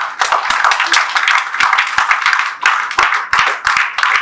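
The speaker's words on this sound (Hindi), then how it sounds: "एक जोरदार तालियां होनी चाहिए आप लोगों की।" Close, loud applause from an audience at a marketing talk, a burst of hand clapping with distinct sharp claps, briefly dipping once or twice before carrying on.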